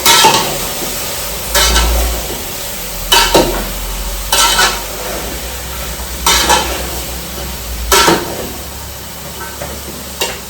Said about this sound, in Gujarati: હવે આપણે અહીંયા શાક મેં પહેલેથી ધોઈને રાખી લીધા હતા એ મિક્સ કરશું.